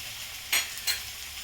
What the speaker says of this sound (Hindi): प्याज, अदरक, लहसुन, कटहल को मैं अच्छी तरह भून ली हूँ।